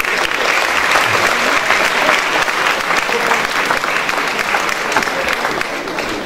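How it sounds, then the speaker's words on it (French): Dense, loud applause from a large crowd gathered for a mayor, sustained evenly for about six seconds as a continuous wash of clapping with no speech. "qu'on peut aussi applaudir"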